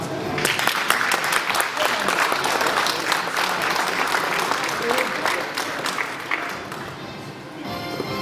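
A crowd at a sports gala ball applauds in a thick, continuous wash of clapping, with some voices mixed in and the clapping thinning slightly near the end.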